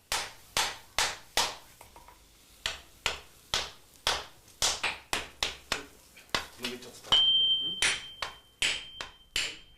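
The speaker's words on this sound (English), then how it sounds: "The commands of the swordsmith's hammer is all that is required" Japanese swordsmith's hammer striking tamahagane steel, a steady series of loud, ringing metallic blows in an irregular rhythm, with a brief high tone partway through.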